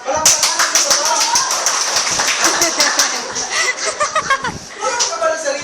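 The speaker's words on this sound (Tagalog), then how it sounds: "Palakpakan sa babae." A crowd applauding for a woman at a Unified Products and Services event, with dense, sustained clapping filling the room throughout, mixed with voices and bits of laughter.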